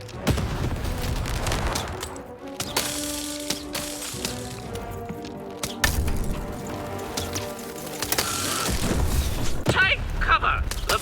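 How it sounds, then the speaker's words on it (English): Cannon blasts in the game Lost in Random boom repeatedly amid chaotic gunfire, crashes and thuds, with busy action sounds filling the mix. "Shoot the button to fire the cannon."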